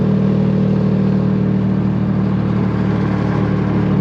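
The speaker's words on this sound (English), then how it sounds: "This exhaust gotta get fixed ASAP." A 6-speed manual Nissan Maxima with a swapped 2018 engine and a faulty exhaust drones steadily and loudly up close, a constant rumbling hum with no clear rise or fall.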